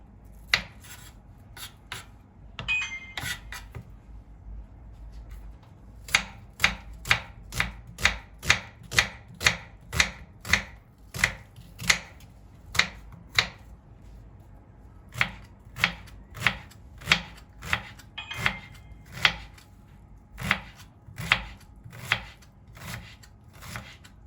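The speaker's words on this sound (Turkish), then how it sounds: "Soğanımızı doğradık arkadaşlar." Knife chopping an onion on a board for stuffed peppers, a steady run of crisp, evenly spaced cuts close by, slow and irregular at first and then brisk and rhythmic, with no talk.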